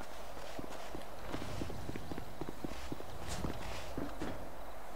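Quick, fairly faint footsteps of a character running in GTA Online, a steady patter of light impacts in an irregular rhythm against a low background.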